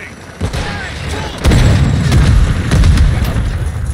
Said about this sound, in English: Rolling flash grenade.